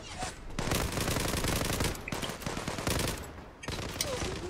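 Video game gunfire with rapid, loud bursts of automatic weapon shots, broken by brief pauses, close and dense throughout.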